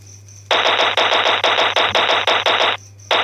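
Placed automatic guns in a mobile FPS Maker game fire rapid bursts of gunfire, loud and close, in a steady stream with brief gaps and a final short burst, over a low hum.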